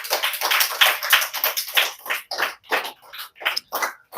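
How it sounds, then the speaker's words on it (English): A small group applauds a resource person at an academy, a run of near, uneven claps that thins out into scattered separate claps toward the end. "A round of applause for her."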